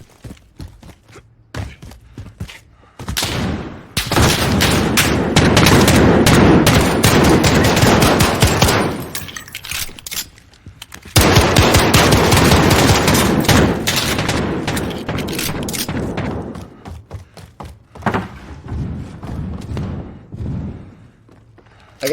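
Gunfire in Call of Duty Modern Warfare, heard as loud rapid automatic bursts in two long stretches with short gaps and scattered single shots and thumps, with no talk.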